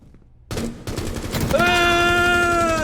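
Gunfire in the mobile tactical shooter Rainbow Six Mobile: a quiet lead-in, then a loud burst of shots at close range. The firing continues into a steady ringing hum with a faint voice underneath.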